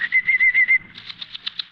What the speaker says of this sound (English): Watch your canaries jump on their perch, Matthew.